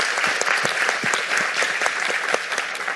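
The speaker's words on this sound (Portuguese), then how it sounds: "pedir uma salva de palmas para todo mundo aqui" An audience at a launch event clapping for panelists, a brief burst of dense, even applause at close range with no voices over it.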